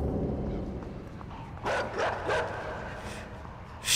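Dogs bark a few times at mid distance in the side-scrolling game INSIDE, short sharp bursts over a steady dark ambient rumble, with a louder burst at the very end.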